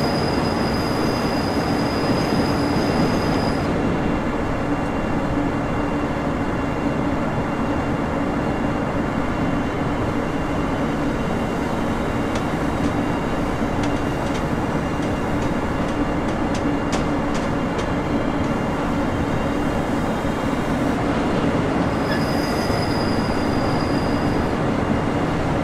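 Train running on the Mannheim–Karlsruhe line in Train Simulator 2021, a steady loud rolling rumble with faint rhythmic wheel clicks and a high thin wheel squeal at the start and again near the end, no talking.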